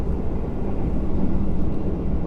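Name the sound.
new generation train passing by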